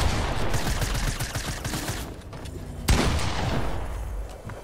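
Rapid video game gunfire in creative mode, a dense continuous fusillade of shots with one sharper blast partway through, fading slightly toward the end.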